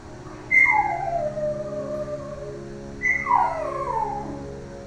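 A dog howls twice during a yoga and pilates class, each call a drawn-out wavering cry that slides downward, fairly close and clear over a quiet room hum.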